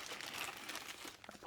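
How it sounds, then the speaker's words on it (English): Crinkling of a large plastic bag holding board game tokens, unpacked during a tabletop game unboxing; soft, close rustling and crackling that runs steadily throughout, with a few sharper crunches near the end. "One big plastic bag."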